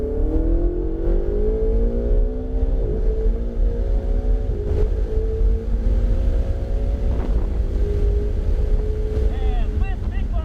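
Ferrari 488 GTB accelerating hard on the Dominion Raceway track, engine note climbing steadily through gears with brief dips at shifts, loud and close with wind buffeting throughout.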